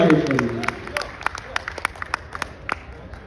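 Audience at a Hindi poetry recital in Jodhpur clapping after an announcer's voice fades, a thinning run of scattered claps with a few sharp isolated hits trailing off.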